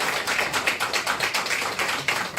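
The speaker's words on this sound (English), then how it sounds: "So, audience, if you think Seb won that round, clap your hands." An audience claps hands at a live strip roast comedy show, a steady patter of rapid overlapping claps from a crowd, fairly loud and continuous with no voices.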